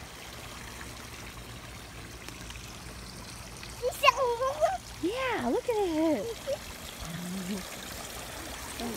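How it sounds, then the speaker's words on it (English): A kiddie pool sprinkler sprays water in a steady low hiss, while an adult and someone talk excitedly over it partway through. "It's got a sprinkler!"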